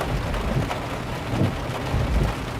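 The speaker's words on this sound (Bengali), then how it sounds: "কি সুন্দর বৃষ্টি" Heavy rain pours down with a dense, constant roar, and low rumbling swells rise within it, all steady and close.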